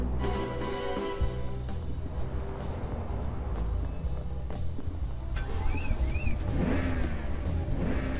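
A BMW car engine revving in the 007 Tomorrow Never Dies video game, a continuous mid-pitched engine drone with rising whirs and game effects layered over it.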